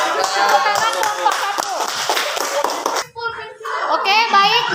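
A classroom group of students claps together in a lively burst, with children's voices chanting and cheering over the hand claps before a brief lull and a second round.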